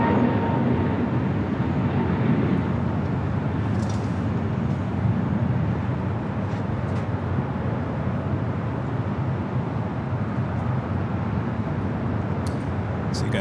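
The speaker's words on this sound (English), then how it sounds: "to 777-300ER, our next takeoff here on the north side at 24 left" A Boeing 777-300ER takes off from runway 24 left at LAX, a steady, broad jet roar held at a distance for several seconds with no voices over it.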